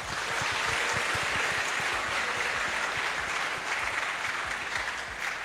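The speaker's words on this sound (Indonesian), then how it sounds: "Tepuk tangan." Steady, dense applause from a large crowd of nearly 4,000 at a gathering, loud and continuous throughout with no pauses and no voices.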